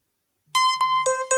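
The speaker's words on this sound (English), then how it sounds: "I changed the text alert on my phone. I want you to hear it." A custom phone text alert plays the Doogie Howser theme, a loud, clear electronic melody of a few bright synth notes starting abruptly after a short near-silent lead-in.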